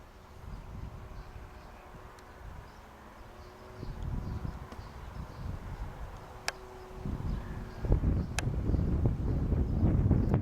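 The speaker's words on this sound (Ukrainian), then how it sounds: "Сьогодні вітер східний, чисто східний вітер." Steady east wind buffeting an outdoor microphone, a continuous low rumble that swells and gusts louder toward the end, with no talk.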